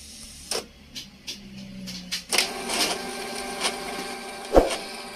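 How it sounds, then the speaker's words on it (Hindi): A Canon G3010 inkjet printer runs an ink-pumping cycle that draws ink to the print head, giving sharp mechanical clicks and clacks, then a whirring motor buzz with a hard knock near the end, close and alone. "इस तरह से कुछ रनिंग 5 मिनट तक आपका प्रिंटर कंटिन्यू चलता रहेगा"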